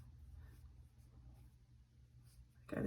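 A borrowed coloring pen scratches across paper in a faint, steady stroke, quiet and close under low room hum, ending in a sudden louder bump.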